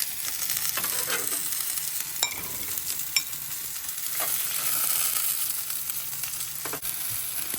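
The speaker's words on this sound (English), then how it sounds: "Sausages left to cook for half time at the Scotland game." Sausages sizzle steadily in a pan as they cook at a Scotland game, a continuous crackling hiss with scattered small pops and spits, close and fairly quiet, with no one speaking.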